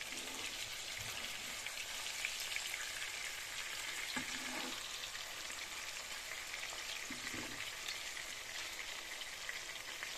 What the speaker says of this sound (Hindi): 2 मिनट हो गए हैं मुझे कबाबों को पैन में डाले हुए